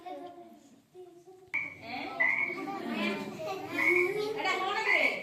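A frog croaks in a loud, raspy burst of repeated calls, followed by someone talking over further croaks.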